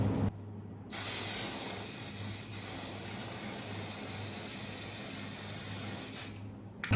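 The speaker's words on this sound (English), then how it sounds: "I'm gonna spray the lace." A sustained aerosol spray hisses for several seconds close by onto a wig's lace, starting abruptly and cutting off near the end, over a faint low hum.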